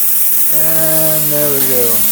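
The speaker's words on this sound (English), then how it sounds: "If you don't hook your ground clamp up, you get the pilot arc and then it goes off" Plasma cutter firing its pilot arc with no ground clamp attached: a sudden loud buzzing tone with a harsh hiss, held for about a second and a half, then cutting out, with a brief spoken remark over it.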